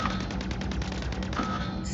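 The Overdriver, a minigun-like weapon in the mech game Mech Arena, fires a steady rapid stream of rattling shots that runs without a break from start to finish at moderate level.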